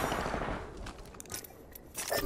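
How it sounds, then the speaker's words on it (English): Bursts of rapid automatic gunfire crackle in Apex Legends, several short volleys at moderate distance, fairly quiet and unaccompanied by talk. "Some plunkers shooting at me"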